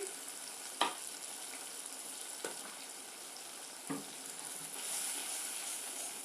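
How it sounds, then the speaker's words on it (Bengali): Mustard paste frying in a pan, washed and mixed with a little water, for a Bengali kochur lati dish: a soft, steady sizzle with a few brief scraping clicks of a utensil, moderately faint, with no voices. "এখন আমি সরষাটাকে খুব সুন্দর করে ভেজে নিচ্ছি।"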